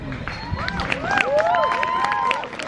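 A crowd cheers and shouts at a people of color and allies march in Teton, a loud mix of whoops and clapping that swells under a speaker's voice.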